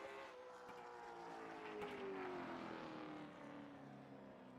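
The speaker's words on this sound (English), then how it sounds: "hopefully you guys can hear me over the cars now. As I was saying, these cars are super loud." Late model race cars in the iRacing simulator roar at Langley, with a high engine whine rising and falling as cars pass, a steady faint drone underneath.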